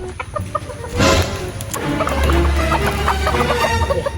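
Chickens cluck and chatter nearby in a steady, busy stream, with one louder squawk early on and a low background hum.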